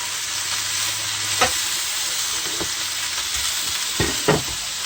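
Lightly salted meat frying in a pan for smothered potatoes, a constant close sizzle with a few brief stirring scrapes and knocks breaking through at intervals.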